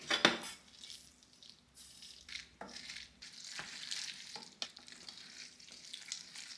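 Kraft Dinner macaroni stirred in a pot with powder and butter, a sticky, wet churning with scraping and clinks of the spoon against the metal, irregular and fairly close.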